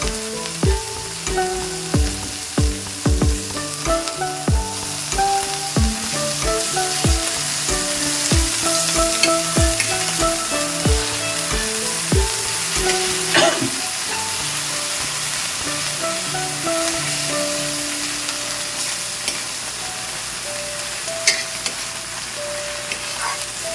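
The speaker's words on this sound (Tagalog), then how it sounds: "Igisa ang alamang." Shrimp paste (alamang) sautéing in a pan, a steady loud sizzle with rapid rhythmic scraping strokes of a spatula through the first half, then continuous frying hiss with an occasional clink.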